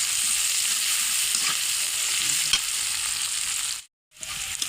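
Green chillies and onion frying in a pan, a bright continuous sizzle with a few faint stirring taps, cutting out briefly near the end before resuming.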